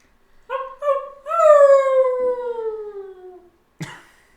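A person imitates a wolf howl with the voice: a couple of short rising yelps, then one long, loud, steady howl that slowly falls in pitch and fades, followed by a brief breathy noise.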